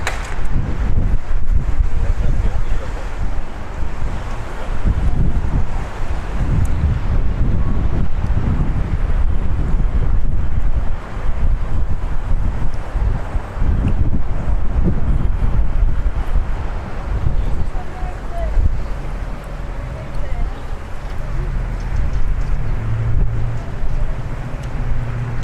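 Strong, gusty wind blasts across the Las Vegas Strip, a loud, steady roar of microphone buffeting with distant traffic rumble beneath and no voices.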